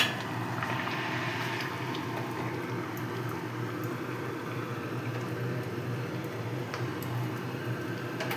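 A pot of rohu fish curry with fried potatoes and hot water simmers on the stove, giving a steady soft bubbling and gentle liquid ticking throughout, fairly quiet with no talk.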